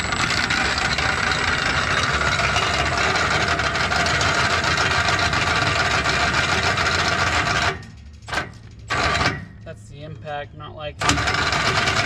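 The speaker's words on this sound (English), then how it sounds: "for some reason the impact doesn't like it." An impact wrench drives a trailer jack, grinding in one long continuous run and then breaking into short stuttering bursts near the mic. Brief speech comes at the end.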